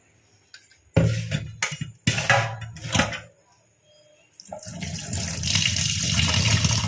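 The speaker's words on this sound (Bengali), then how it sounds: "এখানে চাল আর ডালটা ধুয়ে নেব।" Rice and lentils washed under a running kitchen tap, with bursts of splashing and rinsing water followed by a steady close stream.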